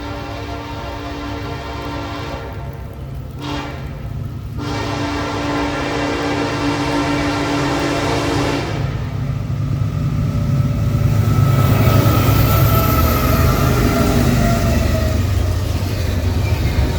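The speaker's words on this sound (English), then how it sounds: "NS 1072, the Illinois Terminal Heritage Unit, would be leading 2 BNSF GEVOs on the eastbound intermodal train" An eastbound Norfolk Southern intermodal train, led by heritage unit NS 1072 in Illinois Terminal colors with two BNSF GEVO locomotives, rumbles past steadily and loudly, its sustained horn sounding in long blasts over the engine roar.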